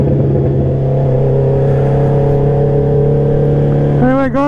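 A Honda CB650R motorcycle engine drones steadily while riding over a bumpy, uneven road, its note holding constant before rising sharply near the end as the throttle opens.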